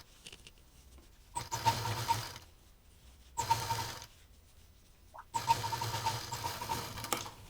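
A sewing machine stitches over existing seams on a fabric basket, running in three short bursts of steady mechanical whirring separated by brief pauses.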